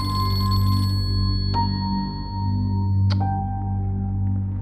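A telephone rings on and on with no one picking up, a steady electronic ringtone filling the room with two sharp clicks partway through.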